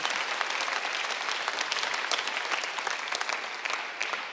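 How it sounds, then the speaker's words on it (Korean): A church congregation at Sunday worship claps hard and continuously, a dense, even wash of applause filling the room throughout. "박수 세게 쳐요."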